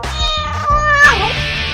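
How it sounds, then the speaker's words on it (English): A kitten meows loudly and close over a bouncy children's song backing, with a rising-and-falling mew that stands out above the music. "Wow! kitten."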